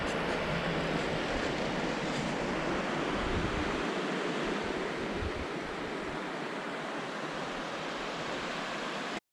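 A river rushes past a river crossing near Matiri Lake, a constant close broadband roar of flowing water that holds steady for the whole stretch before cutting off abruptly.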